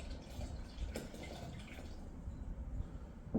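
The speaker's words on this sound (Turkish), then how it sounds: "Maden suyu ilave ediyoruz. Bu maden suyu kaç ml? 200 ml. 200 ml'i boşaltıyoruz arkadaşlar." About 200 ml of mineral water poured out of a bottle in a short, close gurgling stream with a few drips, heard on its own without talk.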